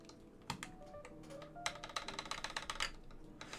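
Typing on a Keychron V1 keyboard fitted with Gateron Grayish switches produces faint, rapid clacks in irregular bursts over a low background hum.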